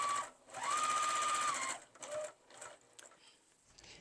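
A sewing machine back-stitches on an iPad case, with rapid whirring bursts: one short run, a longer steady stretch, then brief stop-start pulses, close and fairly quiet.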